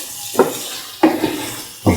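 A spoon stirring garam masala into a cottage cheese and capsicum stew in a pan, three distinct scraping clinks against the metal spaced about a second apart, close and clear with no talking.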